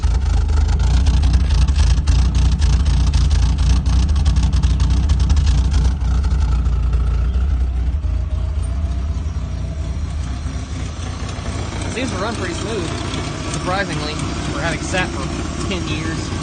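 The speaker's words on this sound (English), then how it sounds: "It runs a little rough right now, but I imagine that's a result of it needing spark plugs." A Nissan 240SX engine, due for new spark plugs, idles roughly with a loud, steady low rumble and a slight uneven shake throughout. A voice briefly joins near the end.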